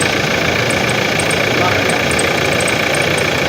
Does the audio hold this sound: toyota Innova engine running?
yes